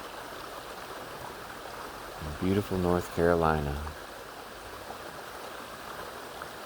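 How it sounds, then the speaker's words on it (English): A mountain stream flows with a steady, broad rushing wash that stays constant throughout, close and even, while a person speaks briefly over it. "The water flowing by is not a dubbed-in sound effect."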